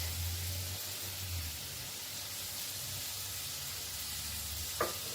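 Green pepper sizzles in a pot of browning meat for a South African sugar bean bredie, a soft steady hiss with a low hum and one brief clink near the end, faint and without talking.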